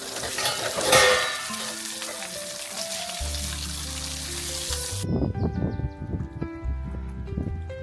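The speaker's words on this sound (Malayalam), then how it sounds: "അവിടെ ചേച്ചി ഡാമിൽ നിന്ന് പിടിച്ച് നല്ല ഫ്രഷ് മീൻ ലൈവായിട്ട് പൊരിക്കണ്ടായിരുന്നു" Fresh fish caught from the dam at Malampuzha in Palakkad, Kerala, frying at a roadside stall: a steady, close sizzle runs throughout, with tonal background sounds layered over it in the second half.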